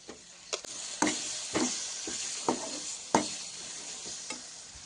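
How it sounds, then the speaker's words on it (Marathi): Spiced onion-tomato masala with red chilli powder, turmeric, salt, garam masala and asafoetida sautéing in a pan for soybean curry, a soft steady sizzle broken by repeated clicking scrapes of a spoon stirring through it. "लाल मिरची पावडर, हळद पावडर, मीठ मसाला, गरम मसाला, हिंग. छान परतून घेऊया."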